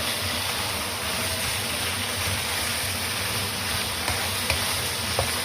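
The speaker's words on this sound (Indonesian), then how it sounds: "Kita tumis daging sapinya sampai berubah warna ya teman-teman" Beef sizzling steadily while being stir-fried in a pan for Taiwanese-style beef noodles, a continuous close hiss and crackle with a few faint clinks near the end, no talking.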